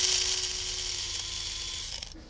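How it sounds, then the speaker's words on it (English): An electric coffee or spice grinder whirs loudly and steadily as it grinds toasted pumpkin seeds in the shell with salt, the motor winding down briefly near the end. "this is a coffee or spice grinder. Okay. First, the ones with the shell. Aquí. We're grinding it along with salt."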